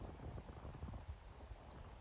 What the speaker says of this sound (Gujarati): વરસાદ વધવા મળ્યો